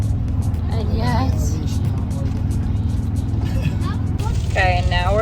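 A car cruises steadily along a snowy high-elevation road on a family road trip, its low engine and road rumble constant throughout while faint voices and a child's chatter drift over the drone.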